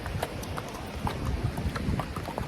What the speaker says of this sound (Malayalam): കുതിര പോവും